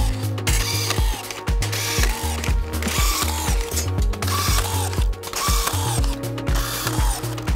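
A Senco SRT 40 rebar tying tool cycles repeatedly at full working speed, producing loud, rapid mechanical whirring and ratcheting bursts in a steady rhythm of about two ties per second, with no talking.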